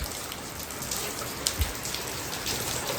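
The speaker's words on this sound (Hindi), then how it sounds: "बारिश तो शाम से शुरू थी, अब थोड़ा तेज़ हो गई है।" Steady evening rain falls at night, a continuous close hiss of drops on surfaces that stays fairly even, with a couple of louder drip impacts near the middle.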